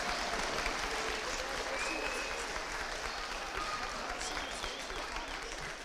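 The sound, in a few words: audience applause at school band concert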